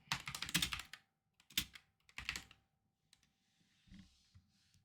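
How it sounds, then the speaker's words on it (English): Quick bursts of keystrokes clatter on a computer keyboard, close and crisp, in three short runs separated by pauses, then a few faint taps at the end. "Can I type?"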